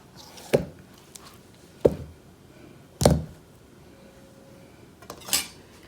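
A knife slices cored zucchini on a board into pieces like apple slices, making four separate sharp knocks spaced about a second apart against quiet background, with no speech.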